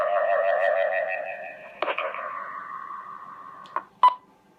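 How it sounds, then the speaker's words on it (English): Two-tone beeps sound from an Icom IDAS digital radio as it keys up, a clear electronic double beep cutting through a steady carrier-like hum, then two short sharp pips near the end. "So it's a double beep for the key up and a single beep for the dekey on the receiving radios"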